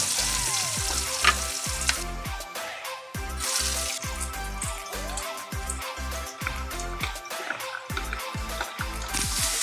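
Garlic and onion fry in a pan for a Filipino chicken caldereta, a constant close sizzle with crackles and pops while a utensil stirs in a rapid, irregular rhythm of scrapes and taps.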